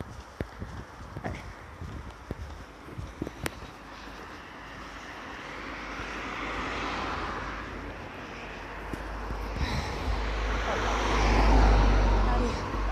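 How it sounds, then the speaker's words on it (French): A car approaches along a road as a man on foot prepares to cross. After a few sharp footstep-like taps, a broad road rumble swells steadily louder and peaks near the end as the vehicle draws close. "le temps qu'elle arrive, cette bagnole, j'ai le temps de traverser"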